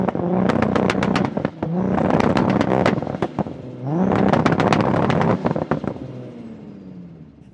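A 900bhp Supra and an 800bhp Skyline R34 GT-R rev hard up close in repeated rising bursts, the engine notes climbing, then dropping back with popping crackles between pulls.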